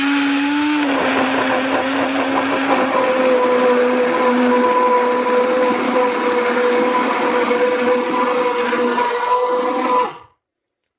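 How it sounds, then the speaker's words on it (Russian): A blender whips fresh parsley into a creamy avocado sauce for chicken hearts with sesame, a loud, steady whirring drone lasting about ten seconds before cutting off abruptly. "Закину свежую петрушку и быстренько это еще немножко блендером так взобью."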